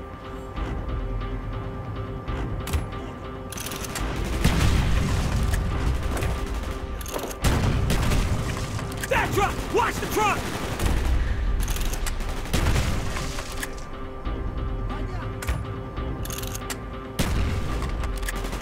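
Heavy gunfire in the Call of Duty Black Ops video game, with bursts of automatic fire, sharp single shots and booming explosions recurring through the scene, while voices shout over the combat.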